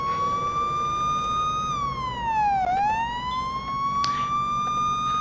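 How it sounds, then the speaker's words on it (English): Police car siren in the video game Police Simulator: Patrol Officers, a steady loud wail that dips in pitch once midway and then rises back, with a short burst of extra noise near the end. "Put on our lights and sirens."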